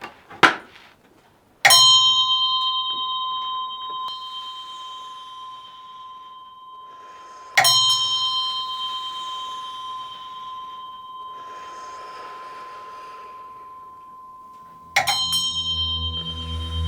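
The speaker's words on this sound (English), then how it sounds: "We start off with the prayer bell." A meditation prayer bell struck three times at slow, even intervals, each bright ring sustaining and fading in near silence, with a faint knock just before the first strike.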